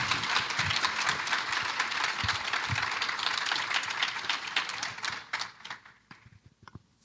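An audience at a City Club of Cleveland community forum applauds steadily to welcome guests. The dense clapping fills the room and then thins out to scattered claps at the end.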